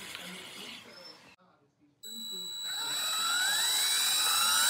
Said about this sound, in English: So we're drilling the hole.